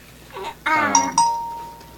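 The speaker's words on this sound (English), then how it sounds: "Phone? I thought I turned your notifications off." A short two-note chime rings out clearly with a sustained tone trailing off, a notification alert heard over a faint background of fantasy-game ambience with a brief voice-like murmur before it.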